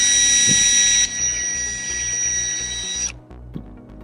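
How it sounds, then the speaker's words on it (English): A power drill whines steadily for about two seconds drilling a hole in a plastic water bottle cap, then cuts off abruptly, with faint handling knocks before and after. "you're gonna drill a hole in the water cap"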